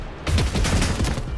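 A burst of concentrated gunfire in the video game Rogue Trader, a loud, dense rattle of rapid overlapping shots lasting about a second with no talk.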